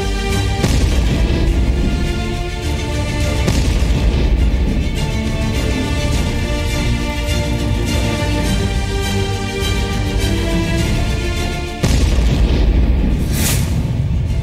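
An army war exercise near a border sets off a loud, sustained blast: a dense roar that rumbles on for many seconds, cuts off briefly and then surges again, with no voices.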